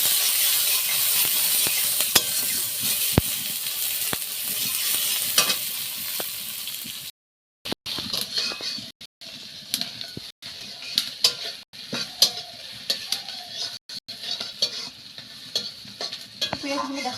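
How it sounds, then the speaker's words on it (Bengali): Onions fry in hot oil with bay leaf and a few cumin seeds while a spoon stirs them, producing a constant close sizzle with frequent scraping and clinking against the pan. "আর পেঁয়াজগুলো দিয়ে দিলাম। ভালো করে ভাজাভাজি করে নেওয়া।"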